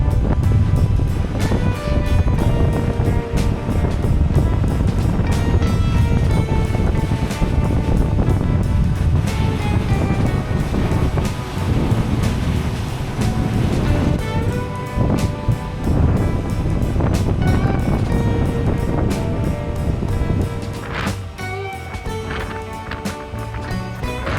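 Wind and waves wash steadily around a large ferry at sea between Kyushu and Tokyo, heard as a continuous loud rushing roar with irregular surges and no talking.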